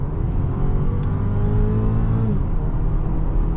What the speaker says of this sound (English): It's got a nice engine feedback sound.